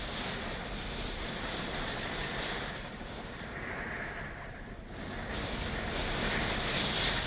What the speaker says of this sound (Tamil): 25 miles per hour wind.